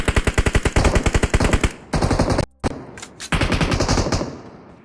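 Loud, rapid automatic machine gun fire in the PUBG Mobile battle royale game, a fast steady burst at the start followed by further sustained volleys with brief pauses between.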